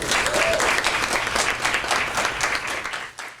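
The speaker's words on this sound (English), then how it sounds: "let's give her a round of applause" An audience applauds a nurse being introduced as president of a professional MS nurses' organization, dense steady clapping that holds for about three seconds before tapering at the end.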